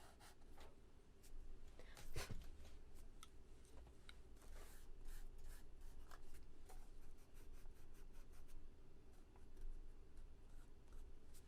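Chalk pastel pencil dragged across sanded paper in quick scratchy strokes, a dry gritty rubbing repeated in bursts, close and faint with no talking.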